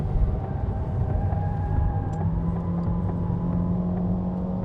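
A Honda Fit's engine drones steadily as the car accelerates around Fuji Speedway, a sustained whirring hum heard from inside with no talk over it.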